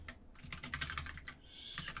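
Keys clatter on a computer keyboard in a quick, uneven burst of soft, close clicks, fairly quiet, with no voice over them.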